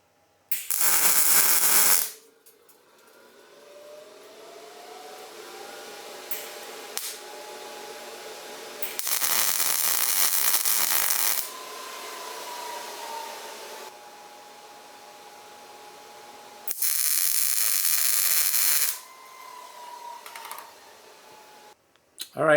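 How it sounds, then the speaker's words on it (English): Welding on a metal frame for a solar project, three loud bursts of harsh crackling hiss lasting a couple of seconds each, separated by quieter stretches with a faint whine. "So next step is going to be welding."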